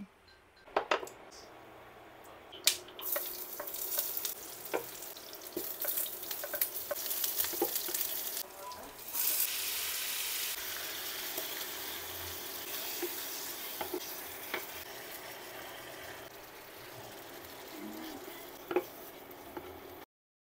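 Corned beef frying in a pan with a steady soft sizzle and occasional stirring scrapes and clicks, fairly close and moderate in level, with little else over it.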